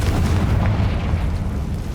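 The Confringo spell explosion in Hogwarts Legacy sounds as a deep, heavy rumbling blast that fills the whole moment, with a dense low roar and no voices.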